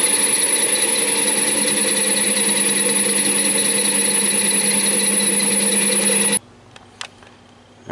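A lathe takes a final cutting pass on a billet axle for a GT40 Ford clone. A steady, loud, dense whine with harmonic tones runs for about six seconds, then cuts off sharply, leaving quiet workshop ambience and a few faint clicks.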